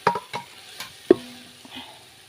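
Biryani masala with tomato frying in a pan as a spoon stirs it, giving a few close scraping strokes and one sharp knock against the pan over a soft, steady sizzle.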